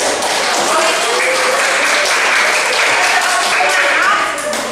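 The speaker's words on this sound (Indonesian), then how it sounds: "kita berikan aplaus dulu" Classroom applause for a student during a lesson, a steady wash of clapping from a group that keeps up for several seconds with some voices mixed in.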